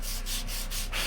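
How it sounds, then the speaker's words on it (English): Rhythmic hand sanding of an apple wood handle, a steady rasping rub in repeated strokes with brief pauses between passes, close and fairly quiet. "hand sanding is going to probably take me another 20 minutes"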